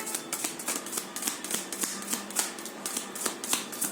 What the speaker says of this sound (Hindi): मैं 3 कार्ड्स लूंगी और फिर बॉटम ऑफ द डेक